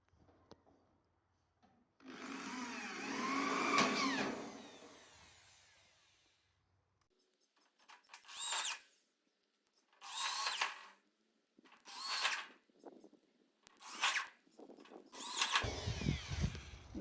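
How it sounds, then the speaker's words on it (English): A power drill whirs in one long burst, then several short bursts drive screws into wood, each a few seconds apart, close by with no talking. "Screwing the end pieces in."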